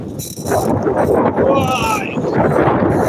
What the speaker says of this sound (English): Why must you be windy?